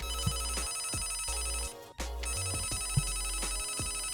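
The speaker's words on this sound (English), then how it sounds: "All of these have the same effed up sounding ringer." An old novelty telephone ringer, the Snoopy phone, sounds loud and close as a continuous harsh electronic trill that stops briefly near the middle and then resumes, with no talking.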